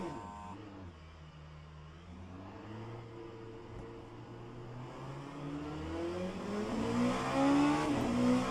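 A Familia Orca LMP2 prototype race car in the rFactor 2 sim, its engine droning and revving with rising pitch through gear changes, steady and continuous with no talk.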